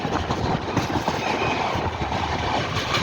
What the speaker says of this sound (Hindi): देखिए पीपलपुर रेलवे स्टेशन को हम लोग स्किप कर रहे हैं अच्छी खासी रफ्तार में